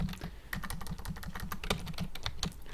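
Rapid, irregular clatter of keys on a computer keyboard as a command is typed, close and steady with no talking.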